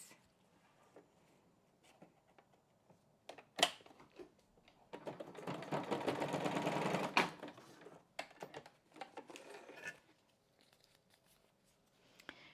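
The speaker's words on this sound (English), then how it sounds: "I'm going to sew across there to keep it in place." A sewing machine stitches across paper scrapbook pieces, a dense whirring run of needle strokes lasting a few seconds in the middle, framed by quieter clicks and paper handling before and after.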